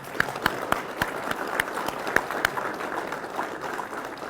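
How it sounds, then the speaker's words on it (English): Audience applause at a police academy graduation ceremony in a classroom: a crisp burst of many hands clapping, close and steady with sharp individual claps standing out early, then thinning slightly toward the end. "Please give them a round of applause as well."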